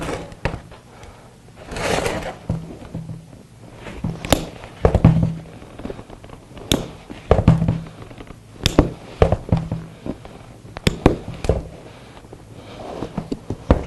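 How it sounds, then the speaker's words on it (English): Snips cut hog rings off a leather seat cover from a Ford F150 driver seat, giving a series of sharp, separate metallic clicks and snaps at irregular intervals, close by, with faint handling rustle between them. "We'll go through the snips and we'll snip those rings off."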